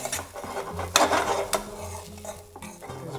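Warm rice mixed with cooked king prawns for a restaurant-style biryani, close scraping and stirring of a utensil against a pan, with a few sharp clinks in a short burst.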